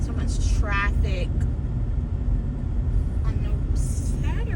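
Heavy Houston road traffic on a Saturday rumbles steadily around a car, with low engine and road noise throughout and people talking over it.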